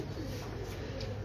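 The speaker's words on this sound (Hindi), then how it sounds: "एक और कबूतर" A breeder pigeon coos on a Lahore rooftop, a soft low continuous murmur running steadily through the moment with no voices over it.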